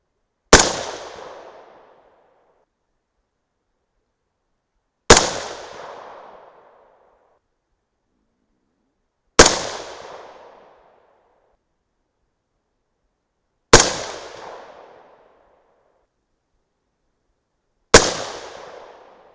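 Five rifle shots from a 6.5 Grendel firing 107-grain Sierra MatchKing handloads, each a sharp, loud crack with a decaying echo, spaced about four to five seconds apart with silence between.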